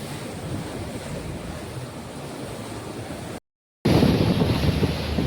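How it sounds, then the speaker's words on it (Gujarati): Calm sea water washes steadily around a boat out at sea, a constant rushing wash with wind noise that cuts out briefly and then returns louder, with no talk. "આ તો અત્યારે વાતાવરણ દરિયાનું શાંત છે"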